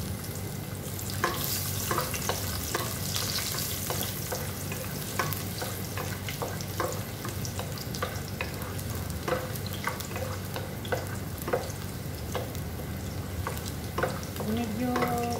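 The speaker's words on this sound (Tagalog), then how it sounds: "Prito na ang bawang" Garlic fries in a pan with a steady crackling sizzle, and a spatula stirs and scrapes at intervals, close up.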